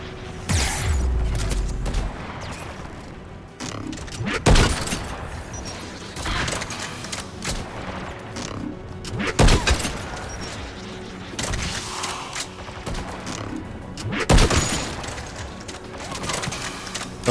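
Sniper rifle shots ring out in a shooter game, three loud, sharp cracks spaced roughly five seconds apart over a bed of quieter mechanical clicks and game ambience.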